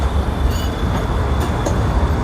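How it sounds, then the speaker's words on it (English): A Polish-made Pesa tram rolls through Sofia, heard from inside as a steady low rumble of wheels on rails with a faint whine and occasional brief squeals, continuous and close. "So this was a Pesa tram."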